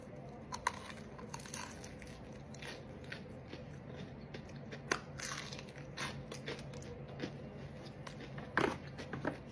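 Repeated crisp crunches of food being bitten and chewed close up, irregular and sharp, with no talking.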